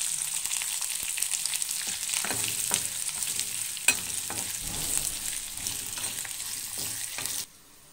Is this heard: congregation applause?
no